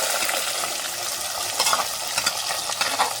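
Onions and fenugreek frying in oil for a village-style fenugreek kuzhambu, a close, dense sizzle with irregular stirring scrapes throughout.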